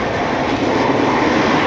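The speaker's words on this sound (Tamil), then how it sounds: "இதுதான் நார்மல் ட்ரெயின் சவுண்டு." Loud, continuous rumble of an Indian long-distance train rolling along the tracks, heard from inside an AC two-tier carriage, with a steady roar and faint rattling.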